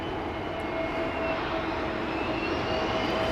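A TAP Air Portugal Airbus neo jet airliner at Heathrow gives a steady, loud engine roar with a thin whining tone on top, continuous for a few seconds with no voices.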